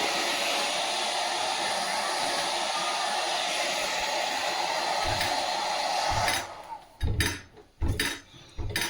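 A hair dryer blows steadily at close range while drying a hair patch, a loud continuous broadband whoosh that cuts off near the end, followed by a few soft handling bumps.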